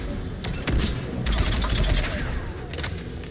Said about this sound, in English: Anti-aircraft guns.